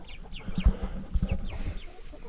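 Several chickens cluck softly nearby in a chicken coop in short, irregular bursts, with faint higher chirps mixed in and no talking.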